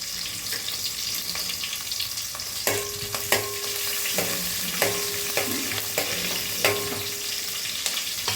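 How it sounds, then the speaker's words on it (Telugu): Tempering spices fry in hot oil with a continuous close sizzle, punctuated by repeated spoon scrapes and metallic clinks against the pan at an uneven rhythm. "తాలింపులు వేసుకుందాము"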